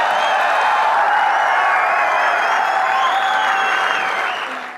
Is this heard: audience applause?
yes